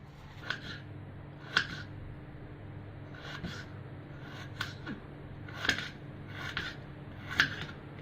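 Fresh peeled turmeric and ginger are cut into small pieces, giving about nine sharp, separate snipping or chopping clicks at an irregular pace over a quiet background.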